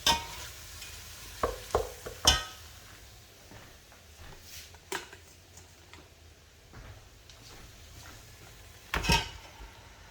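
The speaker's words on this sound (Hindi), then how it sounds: "अब इसमें चिकन डाल देते हैं।" Chicken pieces dropped into frying masala in a pot, with a few sharp clanks and stirring scrapes over a low, steady sizzle and a louder clatter near the end.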